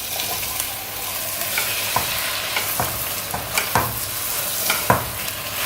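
Chicken is stirred into chicken kurma gravy in a pan, with a soft, continuous sizzle and repeated close scraping strokes of the spoon over roughly six seconds.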